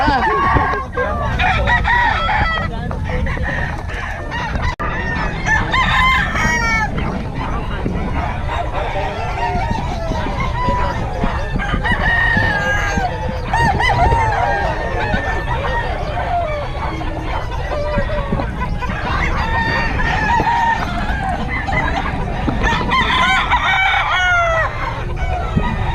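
Roosters crow and chickens cluck at a busy outdoor market where fowl are sold, repeated calls rising over a constant crowd babble and talk throughout.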